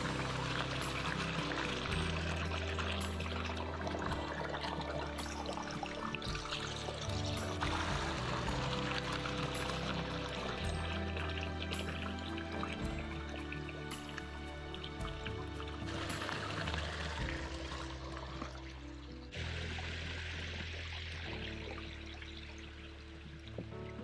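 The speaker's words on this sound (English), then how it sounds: "So I am filtering with my Sawyer Mini." Water runs through a Sawyer Mini filter outdoors along the West Highland Way, a continuous soft pouring and trickling stream that shifts slightly in tone, fairly quiet and steady with no talking.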